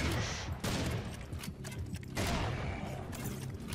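Dense, continuous gunfire from snipers in the Serious Sam 4 video game, loud layered bursts and booms filling the whole stretch with only brief dips.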